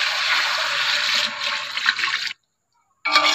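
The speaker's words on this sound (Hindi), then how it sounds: "तो इसमें मैं थोड़ा सा ऐड कर दूंगी पानी" Water is poured into frying masala in a cooking pan, giving a loud steady rush and sizzle that stops abruptly, then resumes briefly after a short silence.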